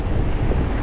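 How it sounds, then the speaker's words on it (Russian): Strong wind on a mountain in Crimea, buffeting the microphone with a loud, steady rumbling roar and no voices. "Вот это что ветер."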